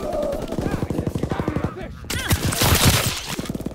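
Rapid automatic gunfire in Call of Duty WWII: close, loud machine-gun bursts in a steady rattling rhythm, a brief pause, then more overlapping shots and sharp cracks of battle.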